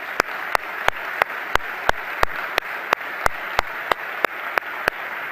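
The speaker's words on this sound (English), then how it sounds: "please join me in giving a big round of applause to our distinguished professor today, Professor Camillo Ricordi." Evenly spaced single claps ring out over a steady wash of crowd applause, a rhythmic beat repeating about three times a second.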